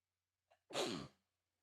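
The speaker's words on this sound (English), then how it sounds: "I gotta sneeze." A single close sneeze, preceded by a quick intake of breath, then quiet.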